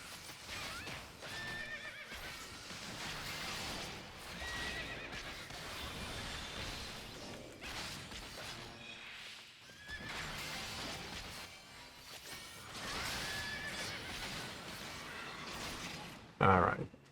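Horse neighs and whinnies from the water horse Kelpie in the video game Final Fantasy XIV, recurring across the stretch with clip-clop hooves and game effects, ending in a brief loud crash.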